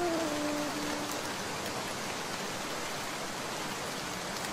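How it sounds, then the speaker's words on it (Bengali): Heavy rain pours down steadily in a cartoon, a dense, even hiss with no break, loud and close, briefly joined at the start by a faint tonal sound. "যে বৃষ্টি, থামার তো দেখছি নামই নেই।"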